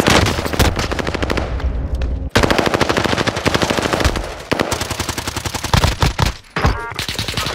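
Loud automatic gunfire from a video game shootout, rapid bursts of shots rattling almost continuously, with brief breaks before firing resumes.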